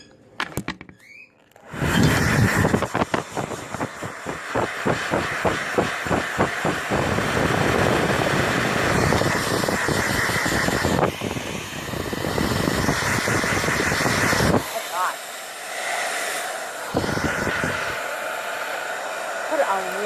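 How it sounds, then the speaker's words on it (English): A hair dryer on warm high setting runs loud and close, drying a car key fob that fell in water. The steady rushing whir pulses and shifts as the dryer moves, then cuts off briefly near the end and restarts. "I'm going to continue to blow dry it good and see if I can get it dried out"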